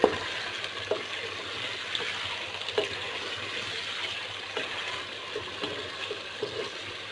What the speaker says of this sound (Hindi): ये देखिए बहुत ही अच्छे तरीके से चिकन जो है वो फ्राई हो रहा है